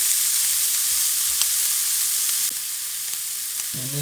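Onions sizzling in olive oil in a pan, a steady bright frying hiss throughout with a few faint pops and a light clatter near the end.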